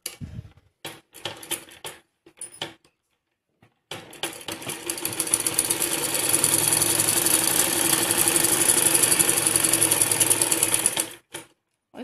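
A sewing machine stitches a seam on a salwar, first in short stop-start bursts and then in one long, loud, continuous run of rapid mechanical clatter before stopping.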